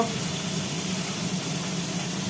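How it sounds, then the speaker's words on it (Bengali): Oil sizzles in a wok, ready for frying morola fish, a steady close crackling hiss with faint bubbling that continues without pause. "কড়াই আবার নতুন করে তেল দিয়ে এইবার মোরলা মাছগুলো ভাজার পালা"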